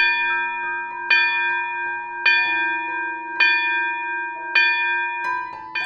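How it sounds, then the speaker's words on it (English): Bells ring with heavy reverberation, struck about once a second in a slow even series, each bright clang sustaining and overlapping the next as the tones linger. "the sound of bells."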